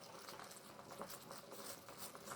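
Herbal hair remedy of greens simmering in a pot, a steady soft bubbling and patter that runs throughout, fairly faint and close, with no talking.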